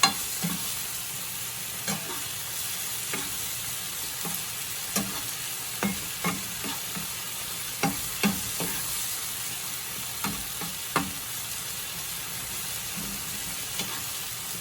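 Minced garlic fries in a pan as the base of a marinara sauce, a steady broadband sizzle with soft, scattered stirring taps every second or so. No one speaks.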